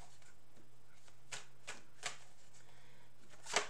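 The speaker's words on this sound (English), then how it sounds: "Let's give them a shuffle." Tarot cards being shuffled produce soft riffling rasps and a few sharper snaps and taps spaced out over several seconds, close and quiet, with a louder slap at the end and no talking.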